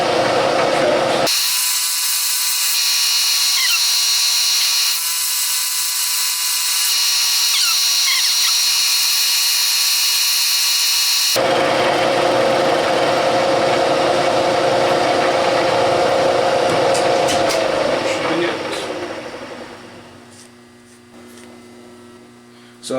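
A Bridgeport milling machine cutting stainless steel gives a loud, sustained high-pitched whine with motor hum. The whine shifts partway through, then the cut winds down and fades near the end, with no talk.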